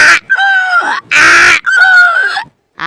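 A performer's voice mimics a peacock in a Gujarati comedy skit, giving two loud, nasal, wailing calls separated by short bursts of harsh vocal noise, close and unaccompanied.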